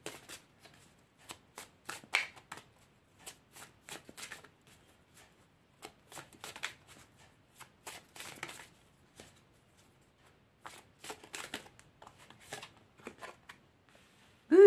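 Tarot cards are shuffled again and again in soft, papery bursts with short pauses between them, quiet and close, with no talking.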